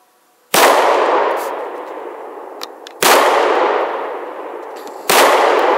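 Three loud pistol shots from an HK VP9 firing Monarch ammunition, spaced a couple of seconds apart, each a sharp crack followed by a long ringing decay, with no talking.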